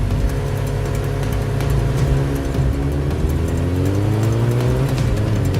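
A KTM motorbike engine drones loudly and continuously, its pitch climbing as it revs and accelerates during a race, close and dominant with no speech.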